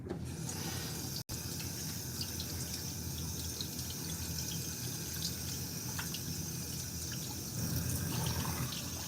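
Running water rinses a darkroom photographic print, a steady, even hiss of flowing water that carries on without a break, with one brief cut near the start and no voices.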